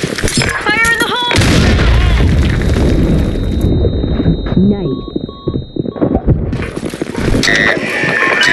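A grenade goes off during a round of a first-person shooter, a loud broadband boom early on followed by scattered gunfire and game sounds, with a voice calling out over it.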